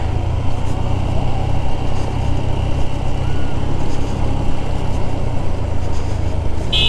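A motorcycle heads down a steep hill road leaving Sajek, its engine a steady, loud low drone that runs the whole time alongside constant rumble and wind.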